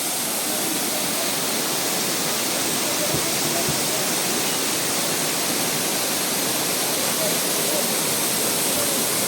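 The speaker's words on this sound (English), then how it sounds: "And here, this is the main waterfall of Amboli." The main waterfall of Amboli roars in a loud, steady, dense wash of falling water that fills the whole clip, with no breaks and no voices.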